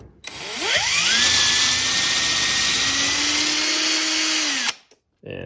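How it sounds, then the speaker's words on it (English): A power drill spins up and whines steadily at high speed for several seconds, boring a shelf pin hole in wood, loud and close, then cuts off abruptly. "But I'm going to drill a hole"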